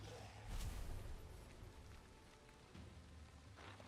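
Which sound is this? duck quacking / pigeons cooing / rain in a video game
rain in a video game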